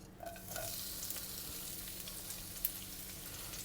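Half a sliced red onion sizzles in about two tablespoons of hot oil over medium heat for a Malaysian Kam Heong chicken stir-fry, a steady close frying hiss with a light stir, no talking.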